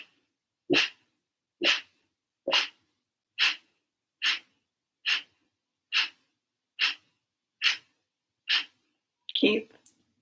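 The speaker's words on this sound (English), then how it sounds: "seal your lips. Inhale through the nose, about 3/4 of the way full. Forceful exhale" Forceful breathwork exhales pushed out through the nose with lips sealed, ten sharp, evenly spaced bursts about every 0.85 seconds, close and loud, followed by a longer rough breath at the end.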